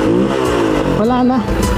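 A Rusi Flash 150 motorcycle with a carburetor revs on a test drive, its engine note rising and falling under someone talking loudly close by.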